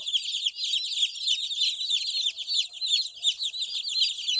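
A flock of chickens clucking and chirping continuously, a dense busy chorus of overlapping high calls with no talking.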